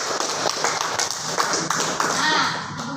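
A school class clapping together after singing the national anthem, a quick burst of scattered hand claps from many children close by, with voices talking over it.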